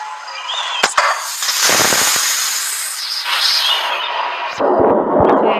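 Two sharp gunshot cracks ring out close together in the video game Granny 2, followed by rushing, blasting bursts and another volley of shots near the end.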